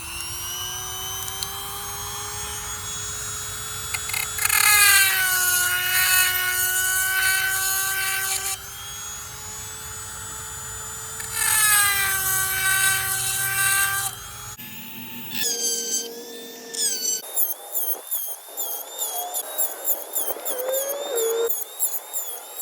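EzzDoo electric chainsaw sharpener grinding a chainsaw chain at a 30-degree angle at variable speed, a loud, shrill whine with a ringing metallic grind that comes in bursts, then switches to short rapid touches against the teeth.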